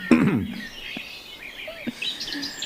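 Small birds chirp and tweet faintly in the background, scattered short calls over a quiet outdoor ambience, with a brief thump near the start.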